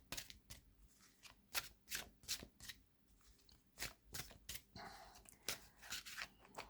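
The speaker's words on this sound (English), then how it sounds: "I'll be a while with the shuffling, I think, in this video" Tarot cards being shuffled in a series of crisp, quick riffling and slapping bursts at close range, irregular in rhythm with short pauses between, with no talking.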